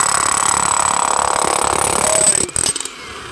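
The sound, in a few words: drilling through a basement wall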